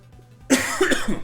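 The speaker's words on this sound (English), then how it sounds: "Okay, I'm coughing a lot now." A single harsh cough bursts out close to the mic, followed by a couple of rougher cough-like catches.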